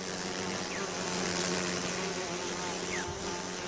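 A swarm of Africanized killer bees buzzes steadily and densely around a food source in the wild, with a continuous close hum and no voices.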